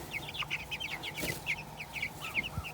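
Meat chickens cluck softly in a quick, chattering series of short calls, fairly faint against a quiet farm background, with no one talking.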